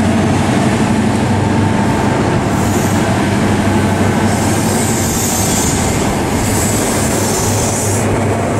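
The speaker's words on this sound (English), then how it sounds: "That's my first clip of a train departing" A Great Western Railway passenger train departing a station in Somerset rumbles steadily and loudly nearby, with continuous wheel and engine noise and occasional high metallic squeals as it pulls away.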